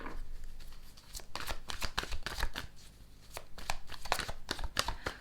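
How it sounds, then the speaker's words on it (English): Tarot cards are shuffled by hand close up, a run of quick crisp riffling bursts and soft slaps in an uneven rhythm, fairly quiet with no talking. "let's start shuffling."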